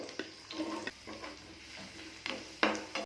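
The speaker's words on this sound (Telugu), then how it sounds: "ఆయిల్ వేడెక్కిన తర్వాత గరం మసాలా, అల్లం ముక్కలు, 2 చిన్న ఉల్లిపాయ ముక్కలు" Garam masala, ginger pieces and chopped onions dropped into hot oil and ghee for a paneer curry, giving a soft, faint sizzle with a few light stirring clinks and scrapes close by.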